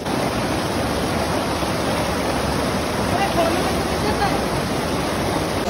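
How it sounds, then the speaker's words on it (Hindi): Cold mountain waterfall on the road from Badrinath to Mana, a steady, dense rush of falling water that holds at an even loudness throughout, close by and broadband with no pauses. "बहुत ज़्यादा प्यारा झरना है यहाँ पे पीछे बैक साइड में ही मेरे, और पानी भी एकदम ठंडा ठंडा आ रहा है।"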